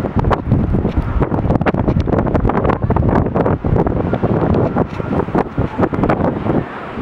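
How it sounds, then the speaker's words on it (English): Strong Hurricane Sandy winds buffet the microphone at night on Grove Street in Jersey City, a loud, continuous roaring rumble with gusty surges and no break. "you can see the winds now"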